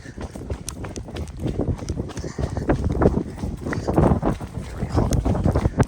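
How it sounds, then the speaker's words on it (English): Hooves clip-clop in a quick, uneven rhythm close by, with a grumpy horse moving briskly over hilly ground, held back from cantering, and some wind buffeting in the background. "Grumpy horse, angry at a dog because he's wanting to canter and not being allowed to."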